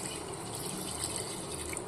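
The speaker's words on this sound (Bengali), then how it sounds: "আমি একটু জল দিয়ে দিচ্ছি" Water pours into a pot of browned, simmering meat for biryani, a brief soft gush and splash heard faintly and close.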